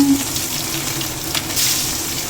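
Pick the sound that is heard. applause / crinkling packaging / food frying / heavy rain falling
food frying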